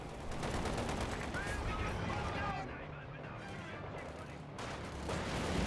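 Dense, continuous battle gunfire in the Company of Heroes 2 strategy game, including an MG42 machine gun, rattles steadily throughout, with game voices and effects layered over it.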